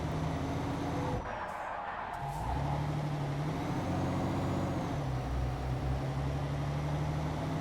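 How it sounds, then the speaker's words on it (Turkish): Heavy truck engine drone in Euro Truck Simulator 2 as the rig drifts and skids, a steady low rumble with a brief hissing surge and shifting engine tone, no voices. "Manyak bir şekilde drift atıldı ya."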